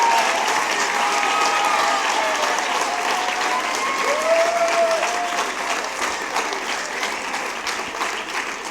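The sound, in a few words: auditorium audience applauding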